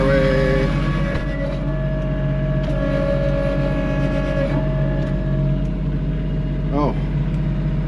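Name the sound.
Kubota tractor wheels spinning to get unstuck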